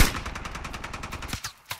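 Rapid automatic gunfire rings out in a squad-based shooter video game. A loud, fast rhythmic stream of shots runs for over a second, then breaks into a few scattered, separate shots.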